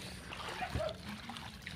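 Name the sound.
people wading through water, splashing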